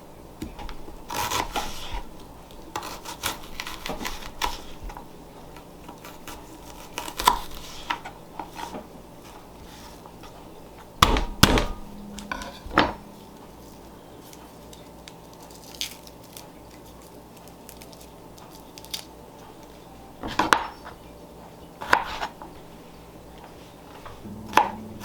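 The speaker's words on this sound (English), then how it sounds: "I'm gonna chop up, I need 2 cups worth of onions, and then I also need 4 cloves of garlic" Onions and garlic are chopped with a knife in a home kitchen. Irregular clusters of sharp knife strikes on a cutting board come close and clear between quieter stretches of shuffling and handling sounds.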